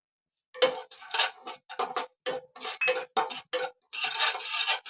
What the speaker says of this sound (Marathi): कढई तापली आता हा रवा भाजून घेते